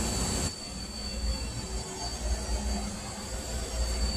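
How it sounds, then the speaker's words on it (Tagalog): A refrigerator that isn't cooling, with an overheating compressor, gives a relay click and then its compressor starts up, settling into a steady low hum with a faint background hiss. "kung maririnig nyo, pumitik ang ating relay at maandar ang ating compressor"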